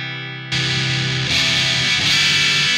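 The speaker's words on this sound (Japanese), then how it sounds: "それではフリーザトーンアイアンフォレスト、音を出していこうと思います。" A Stratocaster-type single-coil electric guitar played through a Free The Tone Iron Forest distortion pedal: a sustained note gives way to thick, saturated distorted chords that ring loudly and continuously, with no talking.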